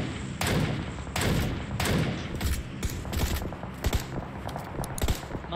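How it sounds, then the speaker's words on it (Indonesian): Loud bursts of gunfire in PUBG Mobile as a player shoots at a car to blow it up. Several sharp, heavy volleys are separated by short gaps, ending in quicker, scattered shots. "Gua ledakin mobilnya."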